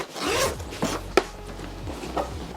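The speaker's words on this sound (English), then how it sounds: "So I'm actually open this zipper and show you guys what the inside looks like first." A zipper is pulled open on a carry-on Coolife luggage suitcase, making a close, loud rasping run with a few short tugs and no talking.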